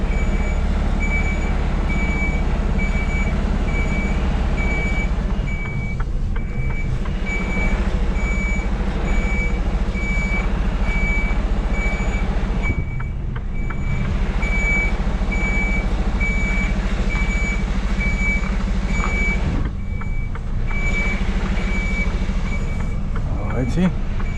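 A truck reverses in winter snow, its backup alarm beeping in a steady regular rhythm over loud, constant diesel engine rumble, with brief dips in the noise.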